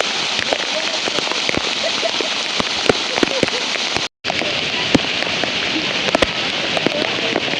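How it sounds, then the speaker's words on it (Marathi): Heavy monsoon rain pours down steadily at Raigad Fort, a dense roaring patter with sharp drop impacts throughout and a momentary cutout midway. "एक नंबर पाऊस आहे एक नंबर"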